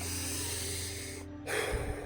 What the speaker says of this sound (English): a proper breathing technique is breathing through the nose, not the mouth